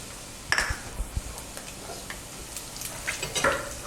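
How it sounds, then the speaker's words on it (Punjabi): Fennel and mustard seeds sizzle in hot oil, a faint steady hiss broken by scattered crackles and sharp pops, plus a few metallic clinks of a utensil against the pan, with no talking. "ਤੇਲ ਆਪਣਾ ਗਰਮ ਹੋ ਚੁੱਕਿਆ ਹੁਣ ਆਪਾਂ ਇਹਦੇ ਚ ਪਾ ਦੇਾਂਗੇ ਸੌਂਫ"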